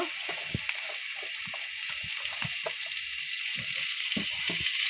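Steady hiss and sizzle of oil heating in a pot on the stove, ready for cooking a vegetarian bottle gourd dish, with occasional small clinks and knocks, no talking.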